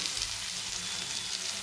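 Close, even sizzling of spices with chili powder cooking in a pan, a soft continuous crackle and hiss with no speech.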